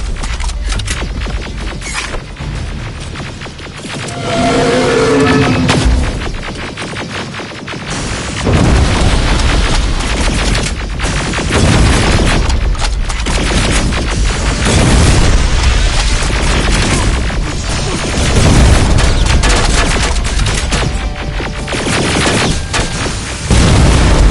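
Heavy explosions and bursts of gunfire from a Terminator Resistance battle as a T-47 is destroyed, with loud booming blasts recurring through a dense, continuous din of combat.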